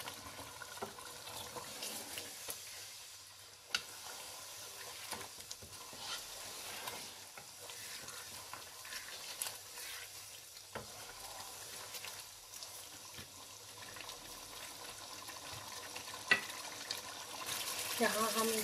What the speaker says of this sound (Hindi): यहाँ हम इसको अच्छी तरह भून लेंगे।